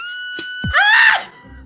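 A comic meme scream rises sharply in pitch over a sustained tone, loud and alone for about half a second before trailing off into quiet.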